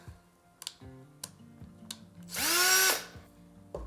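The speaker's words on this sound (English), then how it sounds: "drill a little hole." A small power drill whirs for about half a second, rising in pitch, drilling a small hole into a moss ball, amid quiet clicks and taps of handling, close by.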